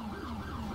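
A police car siren in GTA IV wails in a short, steady burst, loud and up front, with no talk over it.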